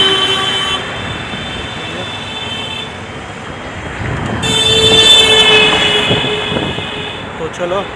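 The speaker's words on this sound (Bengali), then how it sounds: "জিটি রোড, তাই খুব সাউন্ড বেশি, আওয়াজ হচ্ছে গাড়ি ঘোড়ার।" Busy traffic on the GT Road rumbles steadily, with loud horn blasts sounding partway through, near and dense, while a person talks over the noise.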